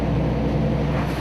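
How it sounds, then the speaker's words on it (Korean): A fishing boat pushes slowly through rough sea waves, giving a loud, continuous low rumble of engine and churning water with wind noise and no breaks. "아주 저속으로 해서 천천히 파도를 헤치면서"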